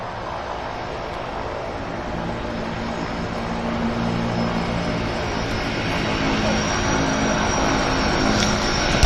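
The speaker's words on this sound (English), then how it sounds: "Slows the aircraft down right in front of us here. This gets ready to grease her down." A floatplane comes in to land on the water at Vancouver Harbour, its engine drone steady and fairly loud as it slows right in front of the listener, with faint background voices.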